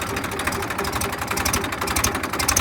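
A Massey tractor's engine idles at low rpm in low gear out in a field, a close, steady, rhythmic chugging with a faint knock running the whole time, and no one talking.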